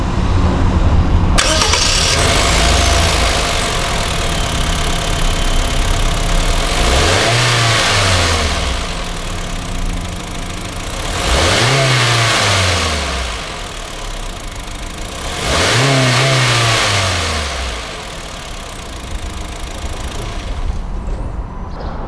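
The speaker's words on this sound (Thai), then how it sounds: "มาฟังเสียงเครื่องยนต์กัน" A Honda Brio Amaze engine cranks and catches, then idles steadily while being revved three times in evenly spaced rising and falling bursts, loud and close.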